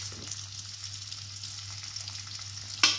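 Aloo kali sizzling in a pan as it is stirred after salt goes in, a steady close frying hiss with soft scraping, ending in one sharper clatter of the spoon.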